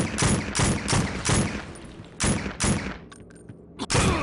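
Several close, loud bursts of rapid gunfire from the tactical shooter SWAT 4 come in quick succession with short pauses, ending in a last burst after a brief lull.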